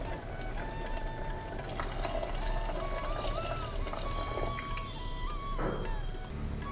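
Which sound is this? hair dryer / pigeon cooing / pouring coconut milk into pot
pouring coconut milk into pot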